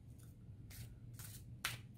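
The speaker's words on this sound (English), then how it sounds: "which means you shuffle the deck" Thoth tarot cards being shuffled by hand, three short crisp riffling bursts separated by pauses over a low steady room hum.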